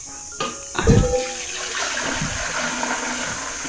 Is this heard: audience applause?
no